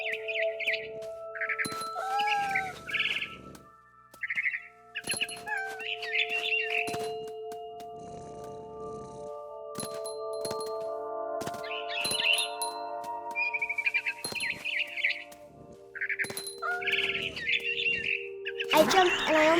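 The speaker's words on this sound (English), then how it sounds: "Then I heard chirping outside my window. It was a barn swallow going back to her nest." A barn swallow chirps near its nest in the video game What Remains of Edith Finch, with repeated bright twittering calls over several seconds and sustained game music tones beneath, fairly close and clear.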